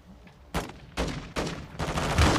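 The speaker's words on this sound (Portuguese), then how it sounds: "Eles estão atirando!" Sharp bursts of gunfire from Call of Duty: Modern Warfare 2 during a cartel protection mission, several loud volleys cracking in quick succession with rumbling tails, ending in a heavier blast.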